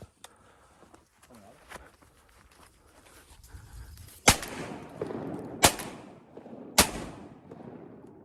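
Three loud, sharp shotgun blasts at ducks during a Louisiana duck hunt after a blizzard, spaced a second or so apart and following quieter rustling and hunters' low voices.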